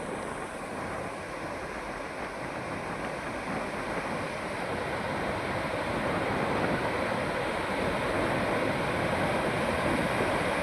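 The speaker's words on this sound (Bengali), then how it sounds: "দেখো কিরকম ঢেউ, সমুদ্রের যে হাওয়া" Sea waves and wind on the beach at Mandarmani, a steady, loud roar of surf and wind noise that continues unbroken throughout, with no voices.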